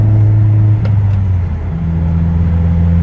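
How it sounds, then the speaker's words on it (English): A Honda S2000 fitted with a Clutch Master FX350 clutch drives along with a loud, steady engine drone and road rumble that shifts slightly in pitch. "The car drives great, you know?"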